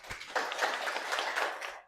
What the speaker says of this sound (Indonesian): boleh tepuk tangan buat Putri.